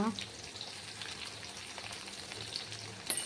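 Cumin and mustard seeds hit hot oil, giving a faint, steady crackling sizzle with scattered tiny pops over a brief stretch.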